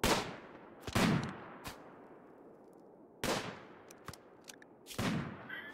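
Gunfire from a firefight in the video game RimWorld: several sharp shots spaced a few seconds apart, each with a short decaying tail, plus a few lighter metallic clicks between them, with no talk.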